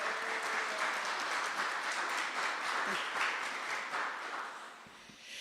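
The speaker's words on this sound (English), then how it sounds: "Can we just take a moment to applaud each and one of you for being here?" An audience at a Lift Indy neighborhood celebration applauds, a dense, steady wash of many hands clapping that holds level and then tapers slightly at the end, with no talk over it.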